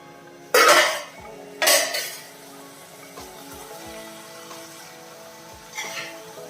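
A metal spoon knocks against a cooking pot of cucumber, two sharp clanks followed by softer scrapes and small taps, close and alone.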